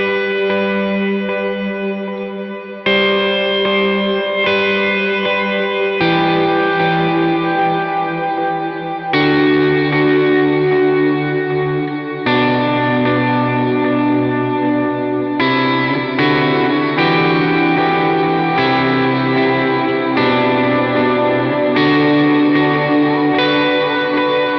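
An electric lead guitar riff sounds loud and steady, soaked in chorus, distortion, echo and reverb, with sustained notes shifting every second or two and slides up to a high plucked B-string note.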